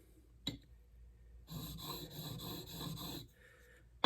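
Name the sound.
chisel being sharpened on a whetstone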